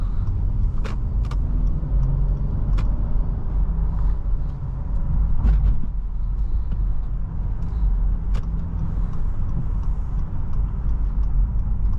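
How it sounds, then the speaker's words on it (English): Steady engine and road rumble from inside a 2019 Acura MDX with VTEC driving on wet roads in the rain, a continuous low drone with occasional faint clicks and knocks, no talk. "You can really hear the VTEC in this generation of the MDX."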